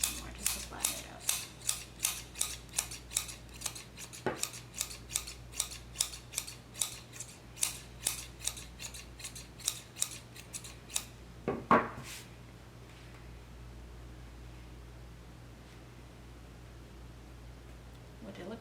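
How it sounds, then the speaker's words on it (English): Scissors snip repeatedly at a yarn pom pom, a steady run of crisp, close cuts for about eleven seconds, then a brief rustle and quiet room tone. "Trim it down some more just to flatten it up."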